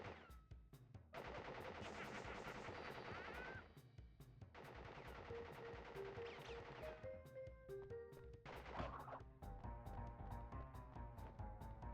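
Video game gunfire from the Pinstripe boss in Crash Bandicoot rattles in long, rapid bursts of machine-gun shots, broken by brief pauses and crashing impacts amid game music, with no talking.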